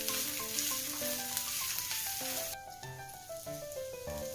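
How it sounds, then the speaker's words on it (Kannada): Onions frying in oil in a home kitchen pan, with ginger, garlic and green chili paste stirred in; a steady, close sizzle runs under background music, with no talking. "ಈಗ ಈರುಳ್ಳಿಯನ್ನು ಸರಿಯಾಗಿ ಎಣ್ಣೆಯಲ್ಲಿ ಫ್ರೈ ಮಾಡ್ಕೊಂಡ ನಂತರ ಶುಂಠಿ, ಬೆಳ್ಳುಳ್ಳಿ, ಹಸಿಮೆಣಸಿನಕಾಯಿ ಪೇಸ್ಟನ್ನು ಹಾಕಿ ಸರಿಯಾಗಿ ಕಲಿಸ್ಕೊಳ್ತಾ ಇದ್ದೀನಿ"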